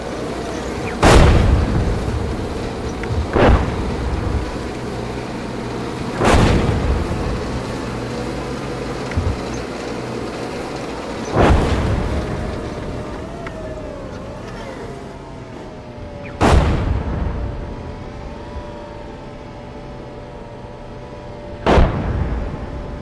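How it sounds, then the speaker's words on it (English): Enemy artillery in the tank game GHPC lands as six heavy booming blasts spaced several seconds apart. Each has a sharp crack and a long rumbling tail over low engine noise. "Okay, enemy artillery is coming in."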